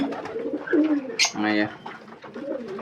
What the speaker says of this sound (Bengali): এই হচ্ছে সব অবস্থা পায়রাগুলো। এখন খাওয়াতে ব্যস্ত